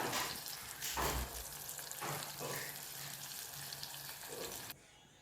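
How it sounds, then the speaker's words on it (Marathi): Cooked, mashed dal being added to a tamarind-water tempering in a pan and stirred, giving a steady sizzling, bubbling hiss with soft scraping and stirring, close and moderately loud, with no talk. "आता आपण ॲड करून घेणार आहोत गरगुटून घेतलेली डाळ"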